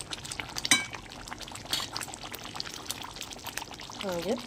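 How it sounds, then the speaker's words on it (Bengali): Coconut milk and poppy seed paste poured into a boiling curry, a soft close splash and trickle of liquid over a low bubbling, with a voice talking briefly underneath. "এবার আমি এর মধ্যে নারকেলের দুধ আর পোস্ত বাটাটা দিয়ে দেবো।"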